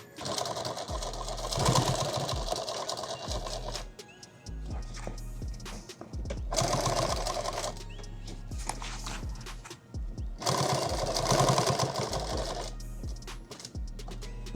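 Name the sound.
sewing machine stitching a war bag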